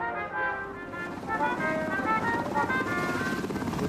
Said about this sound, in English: noticed that chopper, the approach for this one, more or less over the stadium